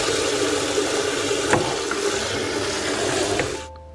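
Water running into a frying pan coated with caramel to dissolve the sugar, a steady loud hissing splash with a faint clink, cutting off abruptly near the end.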